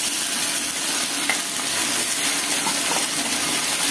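Ground drumstick leaf paste sizzling and frying in a hot pan, a loud continuous hiss with light stirring scrapes throughout.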